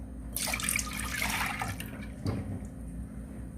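Milk pours into a pot on a lit stove as the base for carrot halwa, a steady liquid splash lasting a couple of seconds before tapering into quieter kitchen background.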